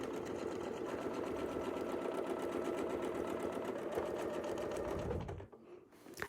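A sewing machine stitches a quilt guided by a Westalee ruler, running in a steady, continuous hum for several seconds before stopping abruptly near the end.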